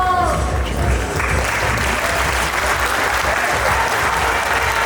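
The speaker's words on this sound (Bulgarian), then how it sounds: "Аплодисменти!" A packed arena crowd applauds steadily and loudly after a women's world title boxing fight in Bulgaria, a dense wall of clapping lasting throughout.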